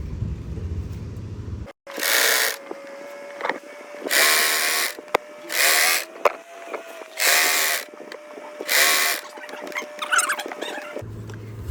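A sewing machine stitching a one-inch fold of saree fabric runs in about five short, loud bursts separated by quiet pauses, with a steady mechanical whir during each run.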